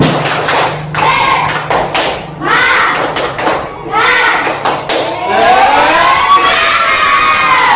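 Classroom of pupils doing a rhythmic 'tepuk semangat' clap chant, bursts of patterned clapping mixed with children's chanting voices, loud and close.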